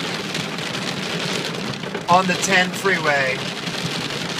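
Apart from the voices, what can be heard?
hailstorm pelting a car on the freeway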